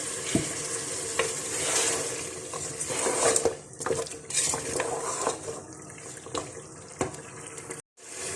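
Water added a little at a time to beef paya curry masala frying in a pan: a steady loud sizzle and bubbling with scattered clicks and stirring scrapes, cutting off briefly near the end.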